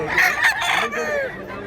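A rooster crows close by in one loud, drawn-out call that rises and falls and then trails off, heard at a place where fighting cocks are kept.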